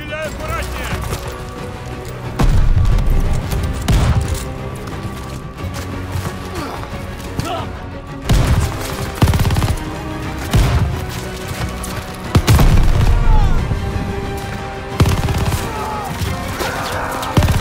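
Combat in Call of Duty Vanguard at a submarine dock, with repeated loud gunshot bursts and booming crashes spread over a steady din of battle noise, while voices call out at times.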